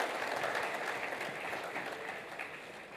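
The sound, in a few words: audience applause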